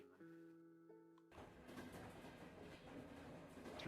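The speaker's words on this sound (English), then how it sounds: "Yeah, we're getting back on the tram." A tram rolls along its line, with a steady rumbling ride noise and faint rail clatter building after a quieter opening of tonal hum, heard alone without talk.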